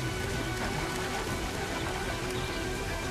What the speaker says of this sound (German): Hat der Regen eigentlich auch irgendwann mal aufgegeben dagegen?